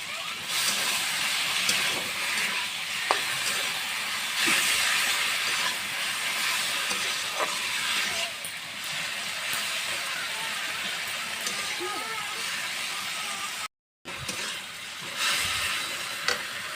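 Boiled taro stolons go into a pan of spices and fry with a continuous hiss and sizzle, with occasional stirring scrapes and clinks throughout; no speech.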